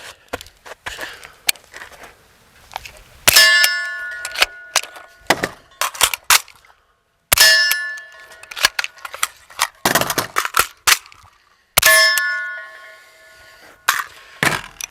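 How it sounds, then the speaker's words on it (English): A rifle's charging handle is racked and the bolt slams home again and again, sharp metallic clacks and snaps in bursts with short pauses between, close and loud, no talking. "manipulating the charging handle, sending the bolt home"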